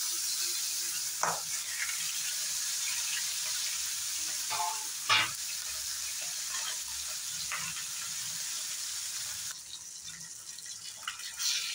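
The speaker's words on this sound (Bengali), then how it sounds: "বাকি থাকা মাছগুলো এইভাবে ফ্রাই করে নেব।" Fish frying in a pan, a continuous hiss of sizzling oil with a few brief crackles and pops scattered throughout.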